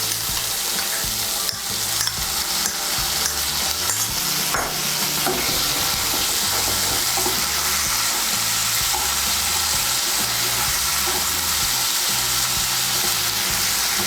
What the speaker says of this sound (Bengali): আদা বাটা, রসুন বাটার, কাঁচা লঙ্কা বাটাটাকে ভালো করে তেলের সঙ্গে মিশিয়ে নেব।